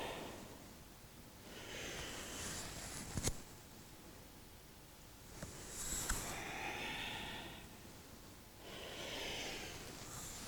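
Slow, audible breaths during a gentle Vinyasa yoga practice, with three long airy exhalations spaced several seconds apart, close and soft, and quiet stillness between them.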